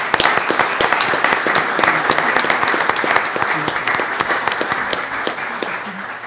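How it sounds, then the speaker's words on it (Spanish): An audience at a panel talk on molecular genealogy bursts into sustained applause, dense close clapping from many hands that holds steady for several seconds before easing off slightly, with no talking over it. "Un aplauso, por favor, para Antonio Guerrero Aguilar."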